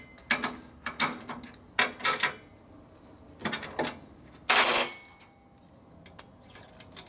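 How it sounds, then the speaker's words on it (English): Wrench work loosening bolts on a 1942 Harley-Davidson WLA frame during straightening, heard as a series of short, close metallic ratcheting clicks in separate bursts with pauses between. "Now if you loosen these up a little bit"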